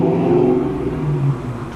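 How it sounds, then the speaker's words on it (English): A 1990s Ford Mustang with a 5-liter V8 rumbles nearby on a city street at night, its engine note swelling in a short rev before settling, steady and fairly loud. "1990s Mustang V8, 5-liter engine."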